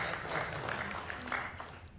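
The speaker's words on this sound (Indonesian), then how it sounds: "beri tepuk tangan bagi Tuhan kita" Soft, fairly distant congregation applause for God at an Indonesian Sunday church service, a diffuse patter of many hands clapping that fades toward the end.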